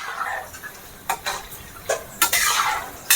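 Gulab jamun frying in ghee as a spoon stirs the pan, giving soft bursts of sizzling with a few sharp scraping clicks from the stirring, close and without talk.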